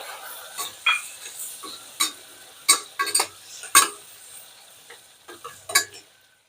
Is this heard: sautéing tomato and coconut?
yes